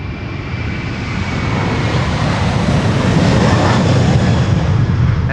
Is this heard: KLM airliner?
yes